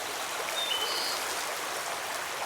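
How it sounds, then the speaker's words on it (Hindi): Heavy rain with flowing floodwater in an animated scene, heard as a steady, dense rushing wash of water that holds even and unbroken throughout, with no voices. "ये बारिश रुकती क्यों नहीं?"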